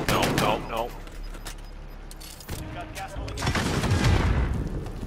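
Bursts of gunfire in a squad match of a video game: rapid, close shots at the start, then scattered reports and a longer burst of firing toward the end, with players talking at times.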